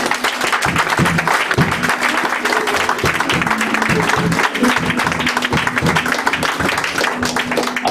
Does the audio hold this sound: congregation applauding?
yes